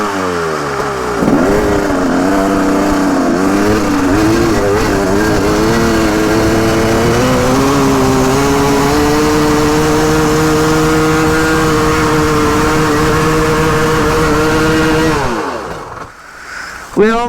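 A motorcycle engine, just recovered from a flash flood and misfiring on fewer than all cylinders, runs loudly and roughly, revving up and holding a strained drone before dropping off near the end.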